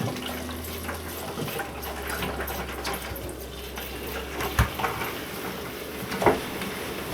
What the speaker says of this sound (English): We're draining into our bucket.